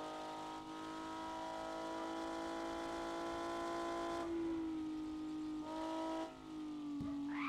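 A car engine in Car For Sale Simulator 2023, a steady tonal drone holding pitch, dipping slightly lower as the car slows, faint and continuous with a small knock near the end.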